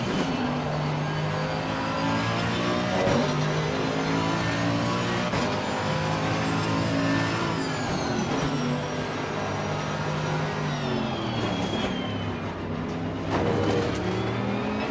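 A race car engine in Assetto Corsa Competizione at Imola roars steadily and loud, its pitch sweeping up and down through gear changes and braking without any break.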